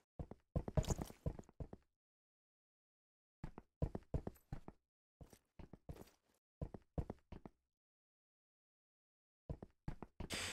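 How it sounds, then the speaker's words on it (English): Bot footsteps in an Unreal multiplayer video game, bursts of quick, crisp steps separated by silent pauses, fairly loud and close, with no talking. "So as you can hear, the bot's footsteps are noticeably louder than my own footsteps."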